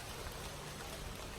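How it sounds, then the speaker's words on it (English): Steady rain falls on a farm, a dense, even hiss of drops on surfaces with no pauses and no voices. "Yeah, it's fucking raining."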